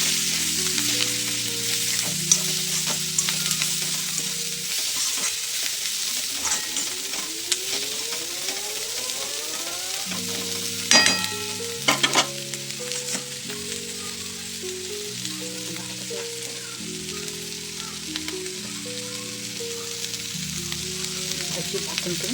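Chival leafy greens (bhaji) frying in a pan, with a continuous close sizzle and scattered spatula scrapes and clinks, while tonal music plays throughout.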